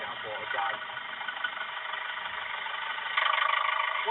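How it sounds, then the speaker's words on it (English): A damaged car engine in a video game idles roughly with a knocking rattle, a steady mid-pitched drone running throughout the clip under people talking, growing a little louder near the end. "Is the engine nailed?"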